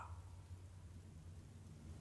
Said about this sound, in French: J'entends le tonnerre, plic-ploc.